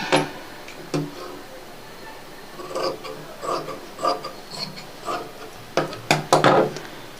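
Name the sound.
cutting blouse fabric to measurement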